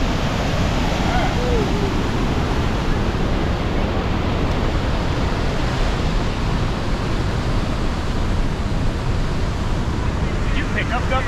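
Water falls steadily by a lake near Banff, a dense, unbroken roar that stays loud and even from start to finish, with no pauses or changes.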